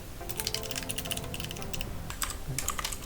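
Fingers type on a computer keyboard in steady bursts of close, crisp key clicks with brief pauses between them, alone with no talk.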